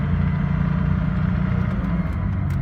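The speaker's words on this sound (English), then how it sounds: "Hear the little bit of the supercharger whine." A supercharged 1991 Ford Thunderbird SC engine hums steadily at close range while driving slowly, with a faint high supercharger whine riding over the low rumble, no talking.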